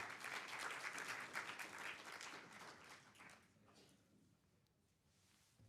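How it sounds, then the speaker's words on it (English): At a higher education summit, a conference audience gives a speaker named Mandy a round of applause, faint and distant, steady at first and then slowly dying away. "Yeah, applaud for Mandy, yeah."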